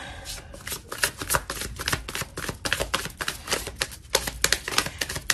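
Tarot cards are shuffled in a quick, steady run of crisp riffling flutters, close and fairly loud, with no voices.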